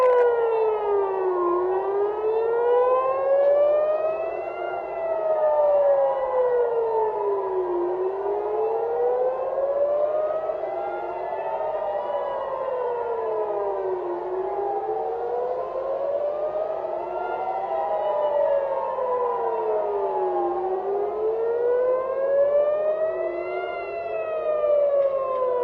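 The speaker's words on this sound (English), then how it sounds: "Okay, sirens off." Civil defense sirens wail continuously in rising and falling sweeps, several overlapping at different pitches, loud and steady throughout with no voices over them.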